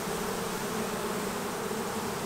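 Honey bees buzz densely around an open hive during a swarm-prevention inspection, a steady loud continuous hum with no talking.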